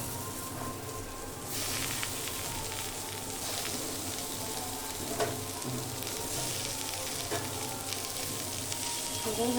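Bitter gourd and boiled potatoes sizzle steadily in hot oil while being stirred, a dense crackling hiss that swells after the first moments, with occasional scraping knocks from the spatula and no voices.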